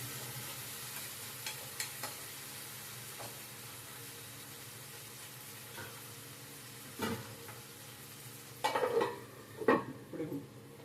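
Curry leaves hit hot oil in a pan, giving a soft, low sizzle with a few sharp crackling bursts and splutters near the end.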